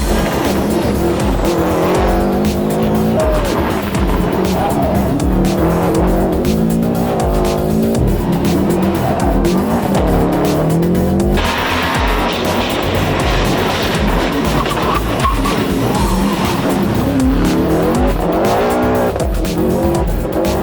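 A Subaru Legacy RS rally car in the British Rally Championship races hard, its engine loud and continuous with rising and falling revs and tire squeal through corners for about twenty seconds.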